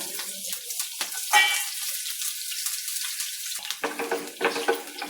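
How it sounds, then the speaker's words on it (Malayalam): Sliced shallots fry in hot oil in a pan for a taro curry, giving a steady, close sizzle with a few brief louder crackles and stirring scrapes. "ചുമന്നുള്ളി ഒന്ന് മൂക്കട്ടെ"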